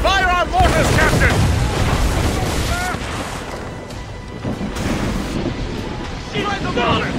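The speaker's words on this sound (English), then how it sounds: "We should fire our mortars, Captain!" Ship mortars firing during a naval battle in Assassin's Creed Rogue, heavy booming blasts that roll into a continuous rumble, loud and close, mixed with shouting voices and battle noise.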